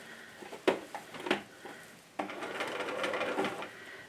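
A sewing machine stitches a spring table runner, starting with a few short bursts of whirring, then running in a steady close hum after a brief pause.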